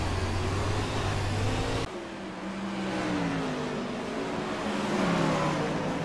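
In a driving video game, a car with a broken clutch has its engine revving loudly and steadily up close, the pitch climbing and wavering through a sustained drone.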